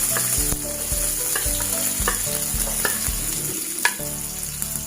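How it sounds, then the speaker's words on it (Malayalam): Onion added to hot oil with popping mustard seeds for soya bean thoran, a close, steady frying sizzle with scattered crackles and the scrape of stirring. "ഇനി നമുക്ക് ഈ ഉള്ളി ചേർത്ത് കൊടുക്കാം"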